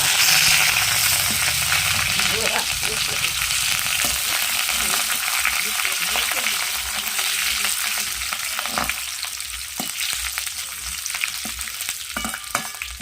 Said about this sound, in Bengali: এবার ভেজে নেব কারি পাতা।